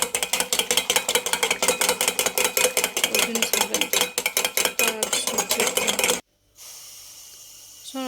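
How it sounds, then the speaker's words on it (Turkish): Revani batter is stirred briskly in a bowl, making a fast, steady, ratcheting run of scraping clicks for about six seconds that stops abruptly, leaving near silence. "İyice karıştırıyoruz arkadaşlar"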